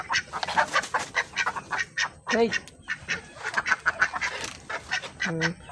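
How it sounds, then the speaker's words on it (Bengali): A flock of ducks quacks loudly and continuously in dense, overlapping bursts close by, with a voice calling out briefly among them. "হাঁসগুলো বাইরে হয়ে গেছে"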